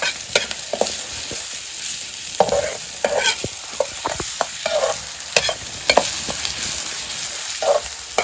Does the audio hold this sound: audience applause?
no